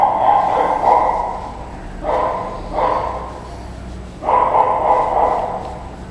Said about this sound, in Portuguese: Nossa, vai todos os cachorros do bairro, não é possível.